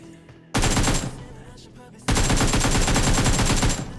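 Automatic gunfire in PUBG Mobile on the Livik map: two loud, dense bursts of rapid shots, the second one longer and sustained, separated by a quieter lull.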